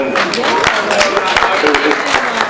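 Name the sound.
applause for the grasstrack race organisers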